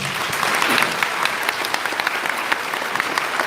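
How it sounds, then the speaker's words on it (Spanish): A church congregation applauds a brother after he speaks, a continuous wash of clapping with individual sharp claps standing out near the listener. "un fuerte aplauso para el hermano"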